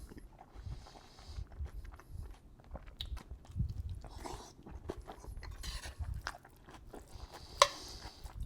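Food being chewed and crunched close to the microphone during a mukbang. The bites are soft and irregular at a low level, and one sharper crunch stands out near the end.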